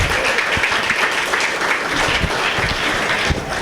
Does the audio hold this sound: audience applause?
yes